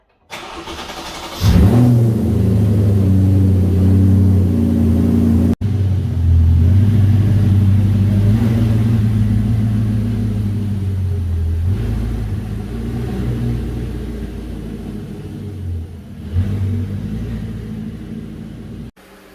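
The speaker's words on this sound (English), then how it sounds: "I'm gonna move out the RS4 out of the garage and bring the Q5 into the garage" An Audi RS4 and a 2010 Audi Q5 3.2L V6 are started and driven in and out of a home garage: a loud engine start, then a steady idling rumble with light revs close by, no talking.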